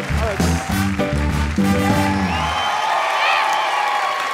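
A television studio audience on Franco Escamilla's comedy show cheers and applauds three women guests, a broad burst of clapping and whoops that rises as music fades out and carries on alone.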